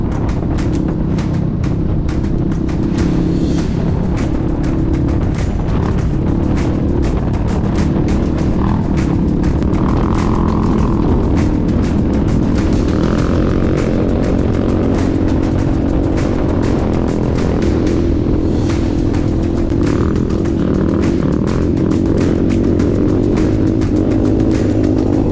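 A scruffy KTM dirt bike climbs a mountain track toward a peak, its engine droning steadily and close throughout, laced with rumble and wind buffeting, with no talk.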